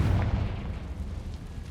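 Confringo blasting spell explosion in Hogwarts Legacy, a deep booming blast with a low rumbling tail that fades out.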